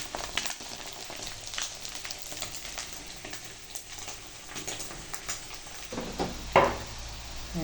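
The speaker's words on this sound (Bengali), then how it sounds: "ডিমগুলো ভেজে নিচ্ছি সুন্দর করে, হালকা ভাজবো, বেশি না।" Quiet sizzling of fish roe frying in a pan, soft and continuous, with a few faint clinks of a utensil.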